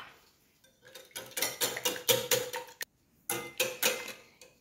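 Cake batter with vanilla essence being beaten in a bowl, a quick rhythmic series of close scraping, clattering strokes in two bursts separated by a brief pause.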